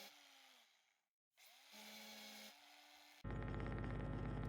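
Harsh, buzzy mechanical sawing from a video game in hard mode, coming in short bursts with a brief gap of silence, then a loud, dense grinding roar at the end.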